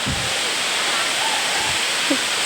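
Sarugudu waterfalls roar as a steady, full rush of falling water close by, an unbroken hiss with faint voices briefly audible underneath.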